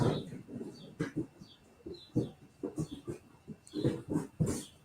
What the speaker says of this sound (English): if you're wondering what the noise is, that's the fucking dogs next door